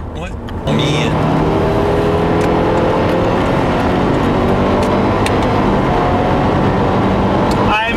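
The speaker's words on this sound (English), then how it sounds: "I just cannot get over how smooth this engine is." A 2015 Subaru WRX engine runs steadily while driving, a smooth, continuous drone with faint road noise that holds level throughout.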